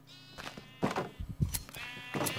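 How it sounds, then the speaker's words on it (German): Sheep bleat in Minecraft, several short nasal game-sound bleats in an irregular string over a quiet farm backdrop, fairly close and clear with no talking. "gehen wir nochmal durch die Schafe durch"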